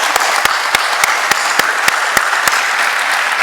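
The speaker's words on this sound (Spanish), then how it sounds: "Le damos las gracias y le aplauso para Aldo." An audience at the 2018 Foro Industrial applauds a speaker: a continuous, loud bed of clapping with sharp, evenly spaced louder claps standing out on top.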